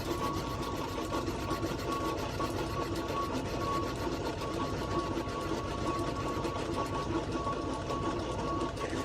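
A metal lathe making a light cut, a steady droning hum with a rapid mechanical chatter running evenly throughout, moderately loud and with no talking.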